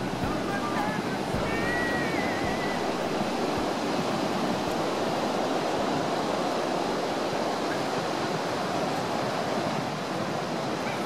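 Surf rolls steadily onto a beach on a cold late-February day, a continuous broad wash of breaking waves with some wind rumble on the microphone, heard on its own without talk.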